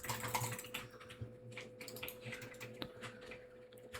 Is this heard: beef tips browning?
no